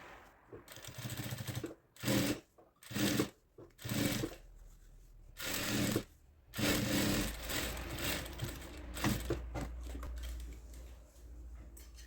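A domestic sewing machine stitches a fabric pouch in short, stop-start bursts, each a close, rapid mechanical whirr, followed by a longer continuous run with a low motor hum underneath.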